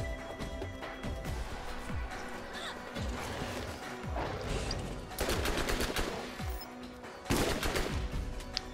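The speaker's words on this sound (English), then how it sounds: "Yeah, I'm liking this submachine gun." Rapid bursts of submachine gun fire in the co-op shooter Borderlands, sharp crackling volleys repeating over a dense bed of game effects and ambience, loudest toward the end.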